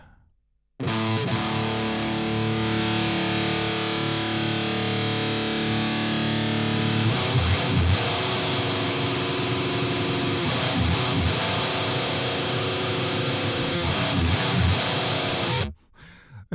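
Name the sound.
heavily distorted metal electric guitar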